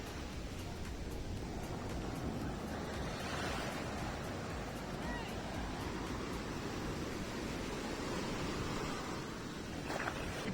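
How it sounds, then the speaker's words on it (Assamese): Large sea waves break on a shore in a broad, continuous wash of surf, steady and fairly loud throughout with slight swells, with no talk over it. "দেখিছে কিমান ডাঙৰ ডাঙৰ ঢৌ আহিছে।"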